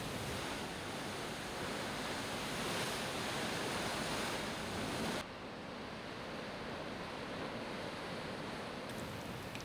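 Rough sea waves heard from aboard a cruise ship, a steady broad roar of surf and wind that drops to a slightly quieter wash partway through, with no talking.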